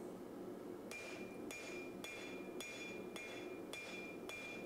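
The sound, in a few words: hammer forging a Damascus steel knife blade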